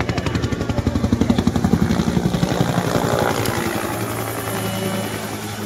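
A helicopter is close and loud, its rotor beating in a fast, steady chop over a deep engine drone, easing slightly into a smoother roar as it moves on.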